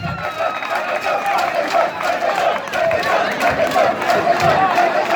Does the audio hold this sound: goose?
no